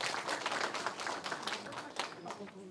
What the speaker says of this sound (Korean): 여러분들 격려의 박수 한 번 더 부탁드리겠습니다